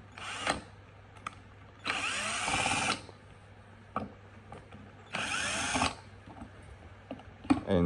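Power screwdriver backing screws out of a smart lock, several short whirring bursts of about a second each separated by pauses with small handling clicks, close and loud.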